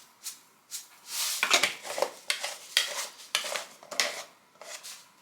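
A spoon stirs chia seeds into water in a glass or bowl, making repeated close clinks and scraping swishes in an uneven rhythm, with no talking.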